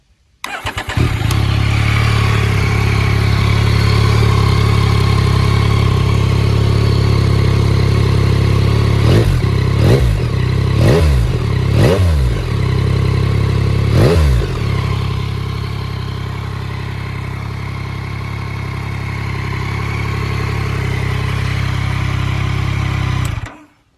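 A 2022 Yamaha MT-09 SP motorcycle engine starts and idles with a steady rumble, broken by several sharp revs in quick succession before settling back to a low idle.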